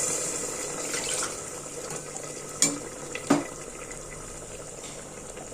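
Water pours steadily into a pot of rice, a continuous close splashing stream with a couple of brief clinks, and no talking.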